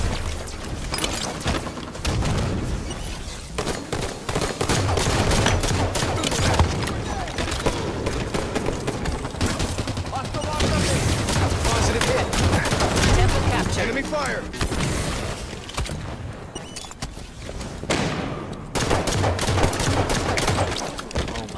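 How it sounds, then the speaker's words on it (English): Enemy gunfire in the shooter game Halo 5 keeps up without a break as dense, loud automatic fire and explosive bursts. Chaotic battle noise fills the whole stretch, and a player's voice is partly mixed in. "Enemy fire."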